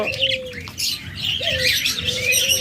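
A pair of pet cage birds, lovebird or budgerigar type, chirp and tweet in quick repeated bursts close by, with a soft cooing note among them over a low background hum.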